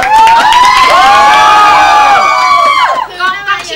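A dense crowd of students cheers and shouts together at a Thai school, loud and close, with children's voices rising in a sustained roar that eases off near the end.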